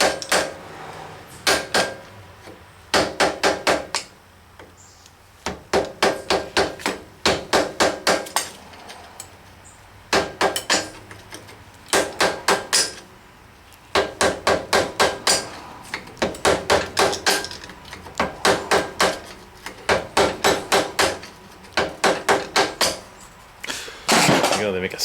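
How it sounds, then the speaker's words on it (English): Hammer taps at a threaded muffler flange on a bike engine being built, coming in repeated bursts of quick, sharp metallic strikes, close and loud, with quieter pauses between the groups. "Right, see if we can go tap that muffler off"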